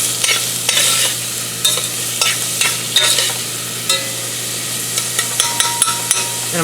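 Onions frying in oil give a bright, steady sizzle broken by repeated clicks and scrapes of stirring, close and loud with no talking.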